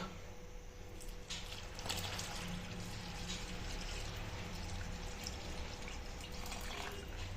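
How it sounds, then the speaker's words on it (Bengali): Milk poured into a bowl of semolina and sugar to make batter for Bengali patisapta, a steady liquid stream with soft splashing, close and continuous throughout. "এবারে এটা গোলার জন্য দেব দুধ।"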